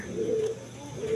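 Gorra pigeons coo close by, two soft low throaty coos in a short stretch over a quiet room background.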